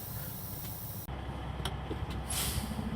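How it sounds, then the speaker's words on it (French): A truck's air parking brake is released, an abrupt loud burst of air at about one second, then a steady hiss with a few short bright puffs, all under a constant low engine idle. "Je desserre le frein de stationnement en appuyant légèrement sur le frein de service."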